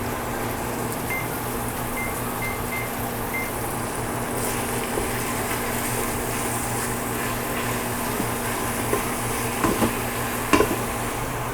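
Turkey seasoned with onion powder sautéing in an Instant Pot gives a steady, even sizzle with a low appliance hum beneath it, a few faint beeps early on and light clinks near the end, with no talk.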